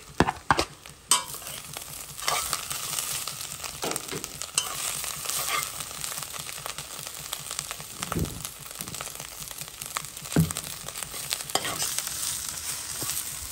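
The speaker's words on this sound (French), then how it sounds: "Maintenant, je vais mettre mes oignons dans la marmite" Onions sizzling in a cooking pot for rougail chevaquine while being stirred, a continuous frying hiss broken by scraping and clattering utensil strokes against the pot, close and fairly loud with no talking.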